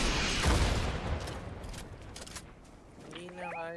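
Fortnite trios match gunfire: a dense burst of rapid in-game shots up front that thins into scattered cracks, with a voice speaking over the later part.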